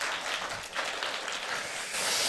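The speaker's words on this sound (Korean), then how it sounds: "박수 한번 부탁드리겠습니다" Church congregation applauds a children's choir at a Sunday service, a steady wash of distant clapping filling the hall for a couple of seconds, without speech.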